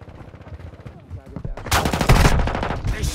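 Gunfire in Call of Duty: Modern Warfare II, with shotgun, MP5 and RAAL machine gun in play; a loud burst of shots erupts midway over game sounds, rattling on through the final second.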